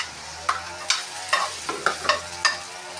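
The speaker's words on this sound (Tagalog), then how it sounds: "igigisa na po natin ang bawang at sibuyas" Garlic and onion sauté in a pan for sinigang, a quiet sizzle running under a series of sharp, repeated stirring clacks of a utensil against the pan.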